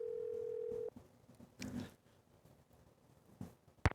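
Telephone call placed in the Nancy Drew game Secret of the Scarlet Hand: a steady dial tone holds for about a second, then cuts off, followed by faint clicks and a brief rustle, with a sharp tone burst at the end.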